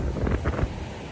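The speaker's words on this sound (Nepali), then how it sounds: "पुरा चिसो हावा, स्वर्गद्वारी प्लस यो मर्स्याङ्दी खोला होइन" Cold wind by the Marsyangdi river in the mountains, gusting and buffeting the microphone in low rushing bursts, with no voices.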